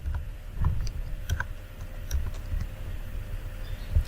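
Typing on a computer keyboard, entering a short list of names into a web form; a steady run of close, soft key clicks with a few heavier strokes, alone without talk.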